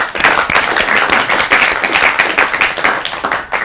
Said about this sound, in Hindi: आपके लिए आप ताली बजाइए